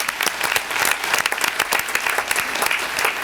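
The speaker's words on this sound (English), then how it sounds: "Maybe could you clap for them to embarrass them?" An audience at a council oath-of-office ceremony claps for two family members in the front row, a lively burst of many hands with distinct individual claps standing out, loud and close.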